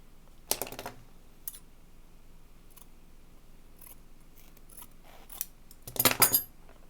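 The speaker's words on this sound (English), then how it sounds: "I'll just cut this in half." Scissors cutting a fabric tab in half for a cross-body bag, two close snipping bursts a few seconds apart with faint handling sounds between.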